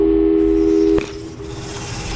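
Steady electronic telephone tone from Portal 2, a pure sustained pitch that cuts off sharply about one second in, leaving a faint lingering hum and background hiss.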